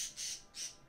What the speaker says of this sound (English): my bird says hi.